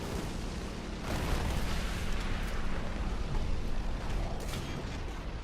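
Tank cannon shells fire in the War Thunder video game from an AML 90 armored car on an Eastern Europe map, heavy booming blasts over a rumbling engine background, loud and close, with no talking.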